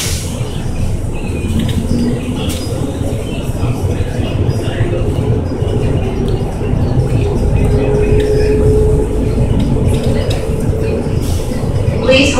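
A loud, steady rumble of a Miami Metromover train approaching First Street Station, with rattling wheels and a faint metallic squeal as it rolls along the track.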